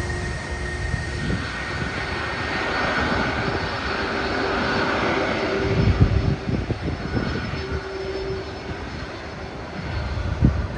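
An airliner rolls along the runway after landing at Sydney, its jet engines giving a steady, broad roar with low rumbling surges, heard from a distance and without any talk.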